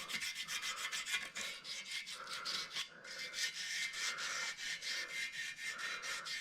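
Aluminum foil scrubbed back and forth over a rusty metal driveshaft gives a steady, close, raspy rubbing in quick repeated strokes, alone, with no talking.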